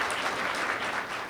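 An audience at a women's organization meeting claps through a first-year celebration, giving a brief, steady burst of dense applause with no talking over it.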